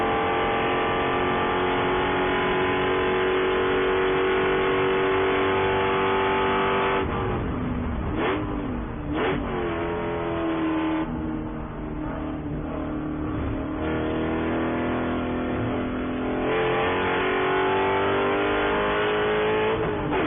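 A 380-horsepower Spec Corvette race car at Daytona International Speedway roars steadily at high revs, its pitch dipping briefly as it shifts or lifts, then climbing again, loud and continuous, heard from on board with no voices.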